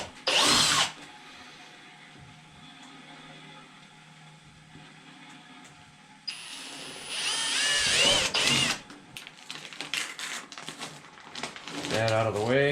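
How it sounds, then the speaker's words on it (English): Power drill boring small pilot holes through a Kubota BX tractor cab roof, short close bursts of whirring and grinding separated by quieter handling noise, with some clattering and a voice speaking near the end. "I'm gonna go ahead and drill a small pilot hole first for each one of these."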